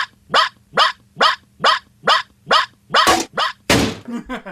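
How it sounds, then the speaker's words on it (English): A small dog yips repeatedly in a steady rhythm, about eight sharp high barks, close by, ending with a couple of rougher noisy yelps. "Robo-puppy commencing 2-hour yipping session."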